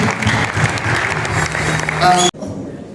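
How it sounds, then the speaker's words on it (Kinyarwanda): A church congregation at a wedding ceremony breaks into sustained applause under a voice leading them, the clapping swelling briefly before cutting off abruptly. "Reka dukomere Imana amashyi."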